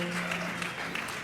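A live audience at a San Diego radio quiz show recording applauds, a brief burst of scattered clapping with a low voice hum underneath.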